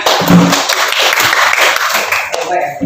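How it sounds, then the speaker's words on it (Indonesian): A classroom of vocational school students clapping on a teacher's cue, a brief, loud burst of close hand claps with voices mixed in. "Oke, tepuk tangan."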